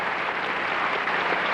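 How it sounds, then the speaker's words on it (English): A gymnastics arena crowd at a 1988 USA/USSR gymnastics summit applauds and cheers after a dismount, a dense, steady roar of clapping throughout. "Everybody cheers."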